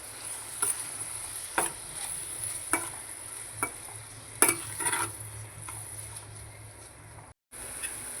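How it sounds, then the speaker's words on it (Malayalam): Masala with salt sautéed in a pan for a flying fish (kola meen) roast: a soft steady sizzle with irregular clinks and scrapes of a spoon stirring, no talking. "ഇത് നമുക്ക് നന്നായിട്ടൊന്ന് വഴറ്റിയെടുക്കണം"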